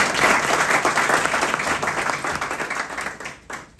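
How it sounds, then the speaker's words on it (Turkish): Steady crowd applause at a political election campaign event, dense and sustained, fading slightly toward the end. "Sayın milletvekili bu lafını alkışlayın ya."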